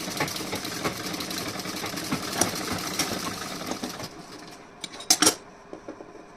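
A sewing machine runs a loose basting seam through fabric, a steady close mechanical whir for about four seconds, then stops, followed by a few sharp clicks and handling knocks.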